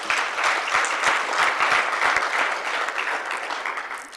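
An audience claps through a round of applause at the ministerial finale of a three-day forum: dense, steady, loud clapping with no break and no voice standing out.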